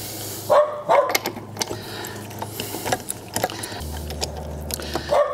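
A dog barks a few times somewhere away from the microphone, short sharp yaps scattered over a steady mechanical hum and small clicks, during a DIY service of a Jayco camper trailer.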